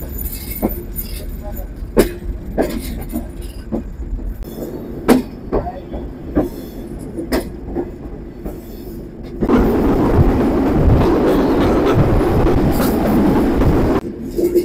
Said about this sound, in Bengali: আন্তনগর চিত্রা এক্সপ্রেস ট্রেনটি তার 2 মিনিটের যাত্রা বিরতি শেষ করে ছুটে চলল